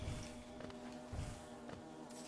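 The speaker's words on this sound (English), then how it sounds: "Hello, bees." Bees in Hollow Knight give off a faint, steady droning buzz that pulses gently, quiet and alone in the scene.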